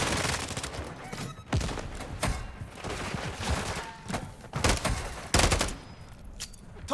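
Rapid bursts of automatic gunfire fill a Call of Duty MW3 match on the Rust map, dense overlapping shots with a few heavier cracks, loud and continuous with faint shouting mixed in.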